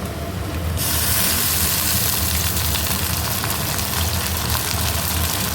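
A sudden loud sizzle erupts as fresh fenugreek leaves hit hot tempering oil, then continues as a steady, close, crackling hiss.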